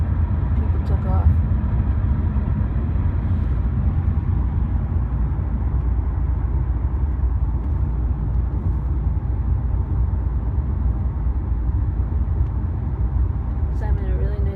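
A Toyota Corolla rolls along on the way to Guangzhou airport, heard from inside the cabin as a steady low road and engine rumble that holds for the whole stretch, with talk over it at moments.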